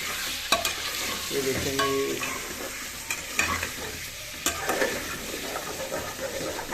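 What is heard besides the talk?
chicken frying in a pan with ginger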